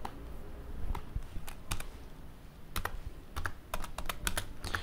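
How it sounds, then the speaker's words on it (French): Rapid clacking keystrokes from a noisy computer keyboard, irregular bursts of typing close to the microphone over a low room hum, no voices. "J'ai un clavier assez bruyant."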